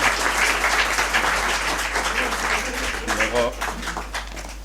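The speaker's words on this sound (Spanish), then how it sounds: "Un aplauso, por favor." Audience applause at a lecture, with steady clapping from a crowd, filling the room at moderate volume, with some voices murmuring beneath.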